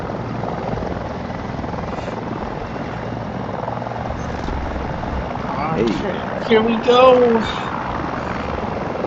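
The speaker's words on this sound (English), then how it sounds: "get into the helicopter" A helicopter in the video game Battlefield 2042, with its rotor and engine droning steadily and close throughout. Players talk over it briefly.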